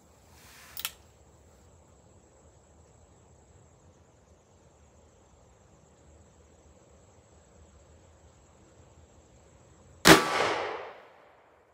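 A Taurus Tracker .38 Special revolver with a 6.5 inch barrel fires a 125 grain Hornady FP-XTP round into a gel block: a faint early crack, then one loud, sharp report near the end over a steady low hum.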